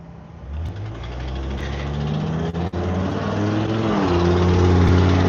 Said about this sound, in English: that was like a loud truck passing